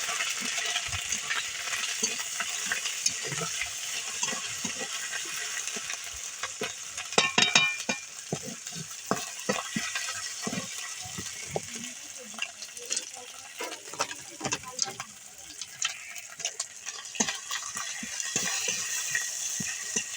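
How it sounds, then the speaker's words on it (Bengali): Ginger and cumin paste stirred in a hot pan, frying with a steady bright sizzle broken by irregular scraping and clinking strokes of the spoon, close and continuous throughout. "আদা দিলে একটু মানে ফোটে।"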